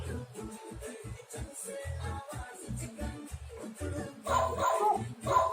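A dog barks and whimpers near the end in an animal sound guessing game, coming in over steady talk from people throughout.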